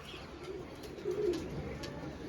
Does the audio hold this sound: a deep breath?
no